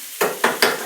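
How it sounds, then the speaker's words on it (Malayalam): Chopped onions stirred in a hot pan with curry leaves, three quick scraping, sizzling strokes in a row over a steady frying hiss, close and fairly loud. "പിന്നെ ഉള്ളി ഇട്ട് കൊടുത്ത് നല്ലതുപോലെ ഒന്ന് ഇളക്കണം."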